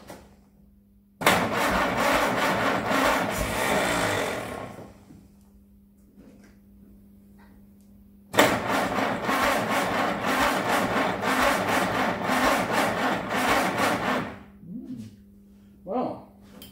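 A Ford GPW jeep engine, just fitted with a new head and given a little choke, cranks over in two long bursts of several seconds each, loud and close, with a short pause between and a brief sound afterwards.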